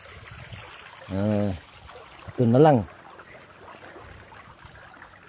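Steady rushing water flows continuously through an irrigation channel on a corn farm while someone speaks briefly twice nearby.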